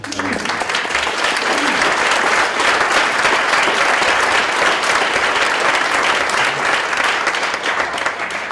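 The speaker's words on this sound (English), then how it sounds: "we'll give him a big round of applause" A long, loud, even round of applause from an audience at an arts council gathering, sustained without pause.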